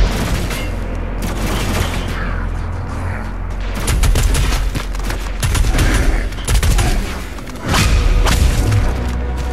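Heavy gunfire and explosive blasts in the shooter game Doom Eternal, loud dense volleys of rapid shots and booms firing in repeated bursts over a rumbling low soundtrack throughout.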